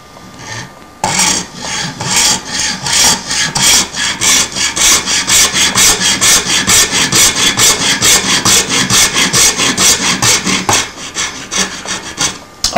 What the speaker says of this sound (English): we shall cut a slot just after the R along here with our hacksaw